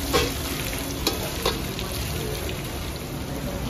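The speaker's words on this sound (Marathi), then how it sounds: "चांगला फ्राय करून घ्यायचं आहे" Country chicken frying in a pan over a wood-fired chulha, giving a steady, close hiss and sizzle with a few sharp pops and crackles, no voices.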